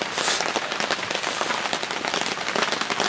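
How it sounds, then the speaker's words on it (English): Rain patters steadily on a camping awning during a shower in Wales, a dense, continuous drumming of close drops with no talk over it. "with it being Wales, the rain started just before"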